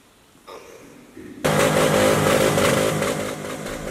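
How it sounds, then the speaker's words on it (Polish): Engines start up in stages and then roar together, several motorcycles revving loudly and close by with a thick, sustained rumble, at the end of an outdoor mass opening the motorcycle season. "Na zakończenie mszy świętej motocykliści odpalili swoje maszyny, aby rozległ się tak zwany święty huk do nieba."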